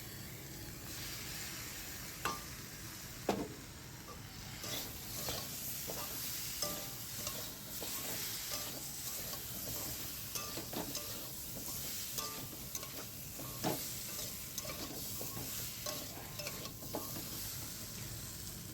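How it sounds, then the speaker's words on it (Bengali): Green plantain curry with spice paste sautés in a pan, a steady close sizzle broken by repeated scraping and stirring clicks, with no voices. "তো এখন একটু কষিয়ে নিচ্ছি"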